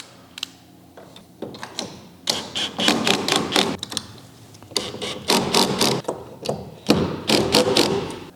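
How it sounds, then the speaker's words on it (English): A power drill tightens down the feet and inner brace of a P127 Sidekick during installation, giving close, loud bursts of ratcheting mechanical whirring with short pauses between runs. "we can go ahead, take our drill. I'm going to tighten down either foot, and then I'm going to tighten down that inner brace"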